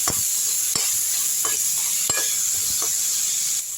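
Chopped tomato sautéing in a hot pan for a garlic chutney, with a steady bright sizzle and a few scraping stirs of the spoon against the pan, close and continuous with no talk.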